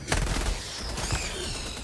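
Machine gun fire in the Helldivers 2 video game, a short burst of sharp, fast gunshots up close with dense, noisy crackle and no talk over it.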